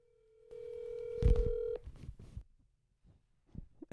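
A phone is dialed to call someone, with a steady dial tone and then a quick burst of keypad beeps, followed by ringing tones and some faint background noise.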